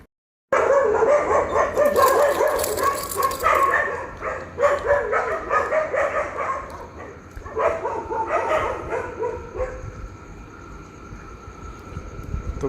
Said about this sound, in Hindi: स्ट्रीट डॉग्स की पूरी गैंग है यहाँ पे, और कोई भी सिम्बा के पास नहीं आएगा, सिर्फ दूर से भू भू भू करते रहेंगे।